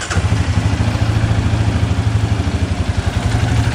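A dirt bike engine runs steadily close by with a rough, pulsing idle and mechanical clatter, holding a constant loud level with no talking.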